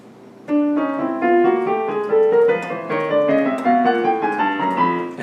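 Piano notes from Chrome Music Lab played one after another in a rising run, each tone struck clearly and overlapping the last, steady and close with no talking.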